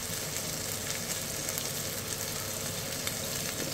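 Scallions fry in a hot pan for goat curry, a dense, steady sizzle that stays loud and even throughout with no pauses and no voices.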